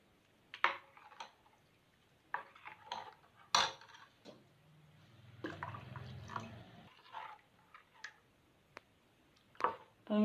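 Rice and coconut neer dosa batter being stirred with water in a vessel, with scattered clinks, scrapes and splashy liquid sloshing in irregular bursts, close and fairly quiet, with no talking.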